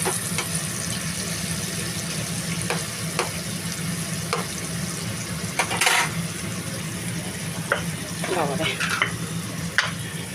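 Onions fry in oil in a pan with a steady, close sizzle that runs throughout, broken now and then by faint scrapes and clicks of stirring.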